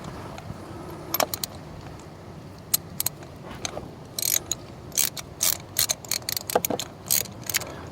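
A socket wrench ratchets in the engine bay of a 2004 BMW 325i with a cylinder 3 misfire, giving bursts of quick close clicking and metallic clatter over a low steady background.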